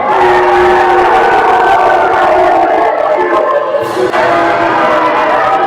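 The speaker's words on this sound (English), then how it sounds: "Now let me hear you cheer for your king." A wrestling event crowd roars and cheers in a large echoing venue, a loud continuous wall of voices that briefly dips near the end before swelling again.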